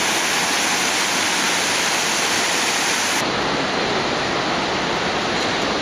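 Loud, steady roar of the rushing river in the Enipeas Gorge on Mount Olympus, broadband and continuous throughout with no voices.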